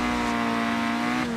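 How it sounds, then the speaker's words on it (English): A 1991 Peugeot 205 Rallye in Forza Horizon 4 launching, its engine droning loud and steady at high revs with a slight pitch shift near the end, continuous and close with no talk. "the engine sound on this car is, for some reason, it's really loud"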